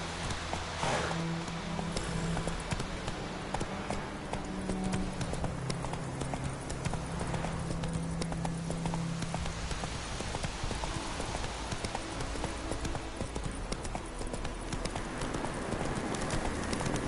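Roach the horse gallops in The Witcher 3, a steady run of clip-clop hoofbeats that carries evenly through the whole stretch over a constant low background.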